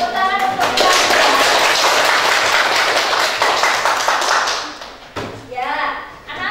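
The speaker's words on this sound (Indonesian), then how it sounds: "Tepuk tangan untuk kalian." A classroom of children claps together for several seconds in a loud, close, steady burst of applause. It breaks off briefly, then resumes more faintly, with young voices mixed in.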